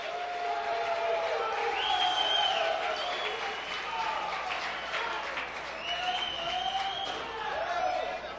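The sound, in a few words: partial crowd cheering for Daniel De La Rosa at racquetball match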